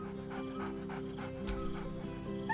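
A dog in Baldur's Gate 3 pants steadily in short rhythmic breaths with a faint whine, close and soft over a low game ambience, no speech.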